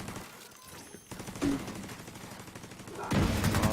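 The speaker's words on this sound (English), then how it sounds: "Oh, I'm getting shot already." Enemy gunfire in the video game The Division 2 comes as repeated automatic bursts, growing louder and more intense toward the end, with a single sharp shot partway through.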